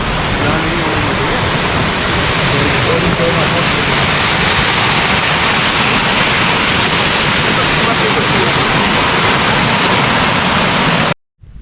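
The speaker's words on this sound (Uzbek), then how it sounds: "katta tog' soy sharshirasi" A large mountain stream waterfall at Tovoqsoy roars loud and close, a dense unbroken rush that holds steady throughout and then cuts off abruptly at the very end.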